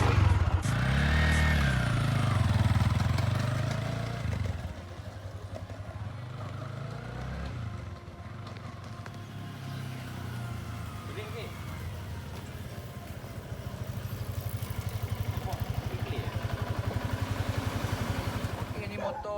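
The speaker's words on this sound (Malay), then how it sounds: "ni motor Y15 Silver Robot" A Yamaha Y15 motorcycle, the Silver Robot, fitted with 180 tyres and 5.5-inch rims, idles nearby with a steady low throbbing beat, briefly revving at the start, while people talk over it.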